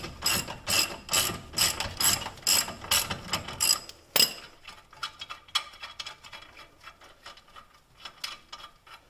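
Ratchet wrench loosening the lower ball joint nut on a 2001 Honda Civic during a wheel bearing job, a run of loud rapid clicking bursts for about four seconds followed by softer, sparser ticks and clicks close by.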